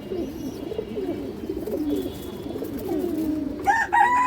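Pigeons coo in low, rolling repeated phrases close by, a steady overlapping murmur of throaty calls throughout, with a brief brighter rattle or clatter near the end.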